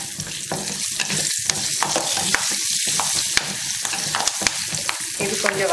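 Small onions, garlic and curry leaves sizzle and crackle in hot oil for a South Indian mochai kuzhambu, with steady frying hiss and occasional stirring scrapes, close and moderately loud.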